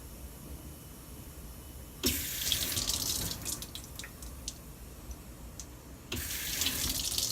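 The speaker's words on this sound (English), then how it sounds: "And then our water turns on by SAP3." Water running from the tap of a surgical scrub sink, a steady broadband rush that starts abruptly, flows continuously with small splashes, then swells again near the end, close and alone with no talking.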